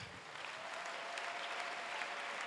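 A church congregation at a pastor's service claps in a dense, steady round of applause that holds at an even level throughout.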